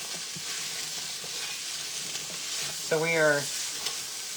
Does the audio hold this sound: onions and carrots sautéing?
yes